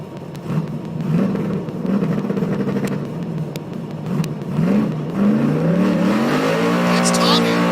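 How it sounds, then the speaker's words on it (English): Drag race car doing a burnout during a nitrous race week, a loud sustained engine roar with rising revs and tire squeal, people shouting and talking over it. "Well, Blaine does burnouts like that too, but that's a Tommy burnout."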